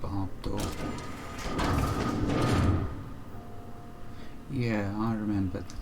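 A barred door mechanism in The Outer Worlds, a loud mechanical sliding rumble over the first few seconds that fades out, followed by a voiced tonal sound near the end.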